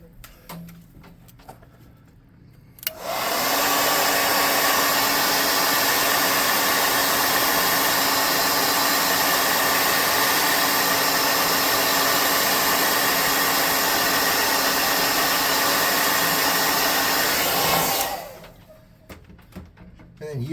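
A hair dryer drying paint on a miniature custom monster model roars steadily and loudly for about fifteen seconds, switching on abruptly and then cutting off, with quieter background noise before and after.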